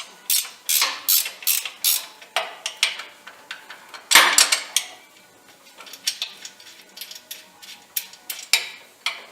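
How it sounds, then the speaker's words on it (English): A ratchet wrench loosens caster and camber adjustment bolts on a car's suspension, producing close, crisp clicking strokes in quick repeated bursts with brief pauses between them. "what I would do is I would loosen these 2 bolts here."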